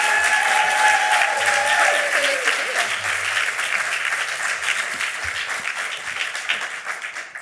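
Audience applause at an awards reception welcoming a presenter to the stage for a Lifetime Achievement Award: sustained, dense clapping from a crowd, steady and loud throughout, with faint voices and brief tonal sounds underneath.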